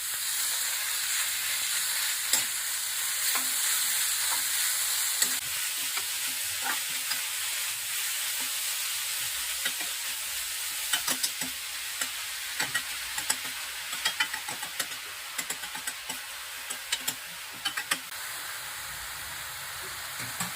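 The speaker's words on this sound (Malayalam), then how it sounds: "പിഴിഞ്ഞു വാരി വെച്ചിരിക്കുന്ന ചേനത്തണ്ട ചേർത്ത് കൊടുക്കുന്നു നന്നായിട്ട് മിക്സ് ചെയ്ത് കൊടുക്കാം" A steady, close frying sizzle fills the whole stretch while a spoon scrapes and stirs elephant foot yam stalk with green gram in a pan, with irregular clicks and knocks scattered throughout; no talking.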